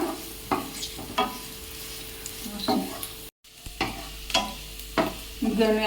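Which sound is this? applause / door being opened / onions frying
onions frying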